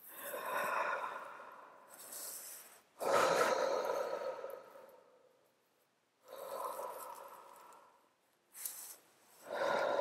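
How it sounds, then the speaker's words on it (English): Heavy, deliberate breathing in a guided breathing exercise: slow, loud inhales and exhales in separate bursts with short pauses between them, close to the microphone and with no talking. "Next, a heavy breath in, a heavy breath out."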